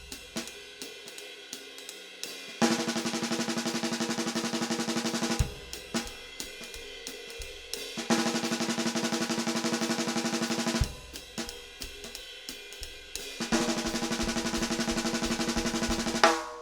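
Drum exercise alternating two bars of a time groove with two bars of fast, even single strokes, repeating in steady blocks at moderate loudness, with no talk over it.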